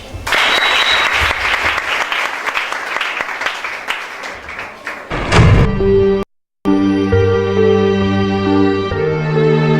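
An audience at a prophetic church service bursts into loud, sustained applause and cheering, then it breaks off and steady sustained musical tones carry on.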